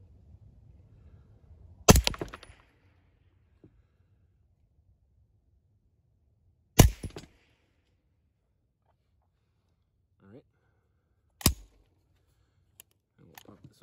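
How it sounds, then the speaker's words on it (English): A 9mm blowback firearm is fired into dirt about 30 feet from a shooting bench. Three sharp single shots ring out several seconds apart, each with a short echo, in an otherwise quiet outdoor setting. "So I'm just going to be shooting into the dirt like 30 feet in front of the bench here"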